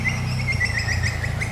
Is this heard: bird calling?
yes